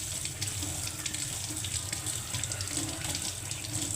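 Tap water runs steadily into a sink while mutton is washed under it, a continuous close splashing hiss with small shifts as the meat is handled, and no talking.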